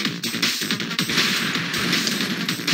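Rapid gunfire from the video game Strike Force Heroes 3, a loud, dense burst of shots with crashing impacts running continuously for a few seconds, with no talking over it.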